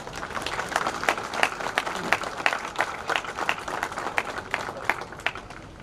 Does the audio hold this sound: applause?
yes